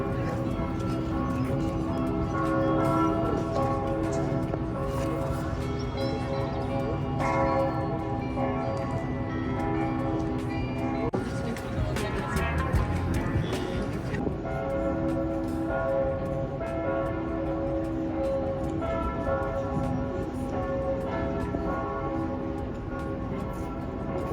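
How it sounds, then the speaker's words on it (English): Many church bells peal together for noon in Heidelberg, Germany, continuously in a dense, ringing wash for the full length, steady and loud, with no talk over them. "my guess is the bells will be ringing for 5 minutes for noon"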